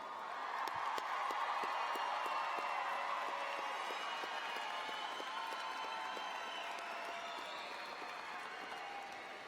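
A large outdoor commencement crowd for Mt. San Antonio College's 2019 graduates applauds at a distance, sustained even clapping with scattered cheers and whoops mixed in.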